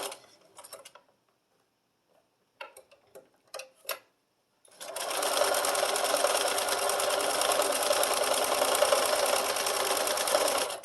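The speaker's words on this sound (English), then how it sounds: "now we can put the foot down and we can sew that final seam" A few light clicks and handling sounds, then a sewing machine runs steadily, stitching the final seam of the binding on a mini quilted wall hanging with a fast, even mechanical whir that is close and sustained.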